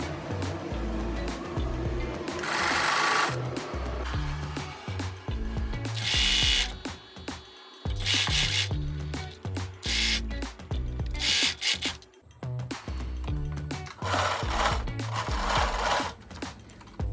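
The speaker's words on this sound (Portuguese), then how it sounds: "Estiquei o tecido, dou uma puxadinha lá atrás e vou costurando." A sewing machine stitches stretched checkered dress fabric in repeated bursts, loud and close, with short pauses between runs.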